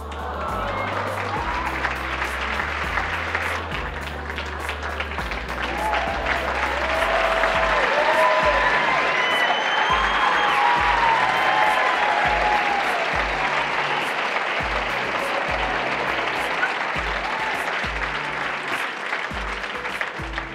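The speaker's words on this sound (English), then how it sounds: "You like that manifested applause?" An audience applauds together in a sustained wash of clapping that swells and holds for about twenty seconds, dense and fairly near, with a few voices faintly audible underneath.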